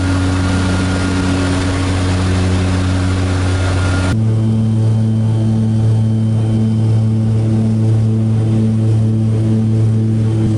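Loud, steady engine drone inside the cabin of a mid-sized passenger airplane on a flight to Puerto Barrios, Guatemala, a constant low hum that shifts to a slightly different pitch partway through.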